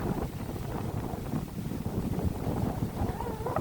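Strong wind buffets the microphone on top of Chinnor Hill in the Chilterns, a gusty low roar that rises and falls continuously with no voices.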